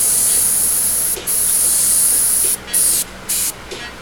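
An airbrush sprays paint for a portrait of Saquon Barkley in loud, close bursts of sharp hiss, steady at first and then broken into short pulses as the trigger is released and pressed again.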